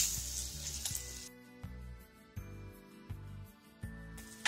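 Potato pieces fry in hot oil with curry leaves, giving off a loud sizzling burst at first that settles into a quieter, steady bubbling crackle, punctuated by soft periodic clicks and clinks.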